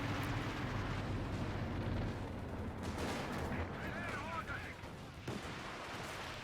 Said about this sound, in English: We have the second volley of the Calliope going up into nothing